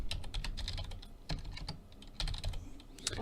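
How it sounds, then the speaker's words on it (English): Keys clatter on a computer keyboard in quick irregular bursts of typing with short pauses, close and moderately quiet, with no talking. "we're going to type in initial calibration"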